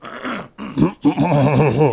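A dog growls and whimpers up close, a low rumbling growl breaking into whiny, wavering vocal sounds across two seconds, loud and alone.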